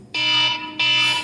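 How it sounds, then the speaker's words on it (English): An electronic alarm sounds in two loud, steady bursts with a short gap between them, a harsh high-pitched buzzing tone with no talk over it. "Yeah, my alarm's going off."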